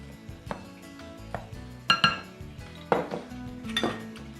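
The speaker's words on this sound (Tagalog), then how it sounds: "Batihin natin maigi hanggang sa magsama ang sangkap at tuminis ang ubi." Ground ube and evaporated milk are beaten in a bowl with repeated clinks and scrapes of a utensil against the dish, irregular knocks growing a little sharper toward the end.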